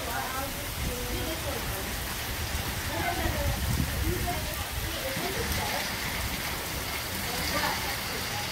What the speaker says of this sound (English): Now it is pouring rain.